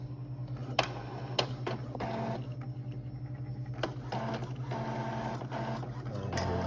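An Epson ET-2850 inkjet printer feeds a number 10 envelope, its print head shuttling with a steady mechanical hum broken by sharp clicks and repeated whirring passes, close and moderately quiet.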